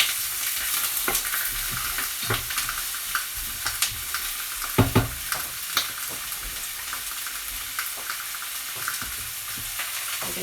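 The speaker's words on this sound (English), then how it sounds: "So I'm just stirring the onions and lardons around," Onions and lardons fry in olive oil with a constant close sizzle. A spoon stirs them around the pan in irregular scrapes and knocks, with a louder clatter near the middle and no speech.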